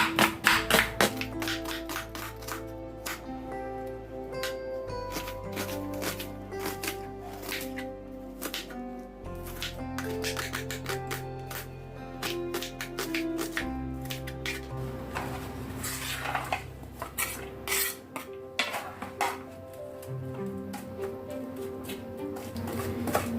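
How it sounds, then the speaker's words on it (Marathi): Onion chopped on a chopping board for spicy vermicelli upma, a long run of quick, close knife taps in irregular bursts with small pauses and a few louder knocks. "कांदा देखील कट करून घेऊया"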